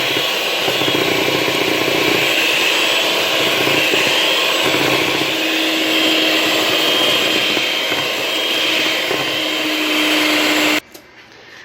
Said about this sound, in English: And then I will mix that together.